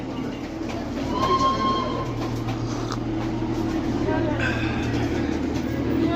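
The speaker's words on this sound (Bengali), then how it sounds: "ইঞ্জিন এখনই চলে আসবে।" At Darjeeling station a train engine rolls in with a steady low rumble, and thin squealing tones rise briefly above it, while people talk nearby.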